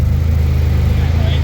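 A tuned SR20DET-powered Nissan 240SX spins its old, worn tires in fourth gear near redline, giving a loud, steady engine roar that fills the short stretch without a break.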